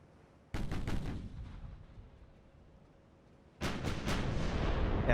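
Battleship main guns fire in the naval game Ultimate Admiral: Dreadnoughts, two heavy salvos of several booming shots each, loud and close, with a long rumbling decay between them.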